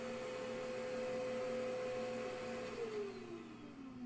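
An old vacuum cleaner motor runs steadily up close, a sustained whine that holds pitch then drops noticeably as it begins winding down near the end.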